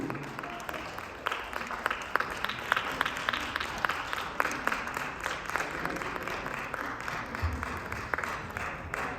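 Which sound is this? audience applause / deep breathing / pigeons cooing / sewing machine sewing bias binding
audience applause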